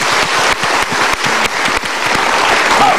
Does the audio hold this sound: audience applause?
yes